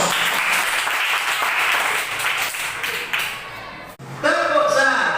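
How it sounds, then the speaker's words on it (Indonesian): Participants in a teacher training session clap together in a brief burst of applause that stops abruptly, followed by a voice starting to speak. "Berikan aplaus."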